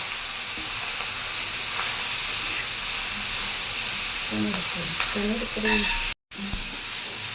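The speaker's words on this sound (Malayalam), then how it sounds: "നന്നായിട്ട് ഇനി ഇളക്കിക്കൊണ്ടേ ഇരിക്കണം അല്ലേ" Clams fried in a pan with sunflower oil, stirred continuously: steady close sizzling and hiss with scraping stir strokes, a brief dropout near the end, and a faint voice in the background.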